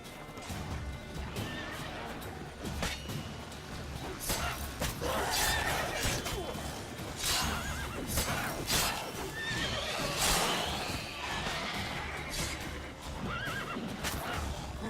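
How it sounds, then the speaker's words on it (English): A horse in The Witcher 3 neighs and whinnies loudly over busy in-game combat noise, with clip-clopping hooves and scattered crashes and impacts running throughout. "Oh, the horse is kicking their ass."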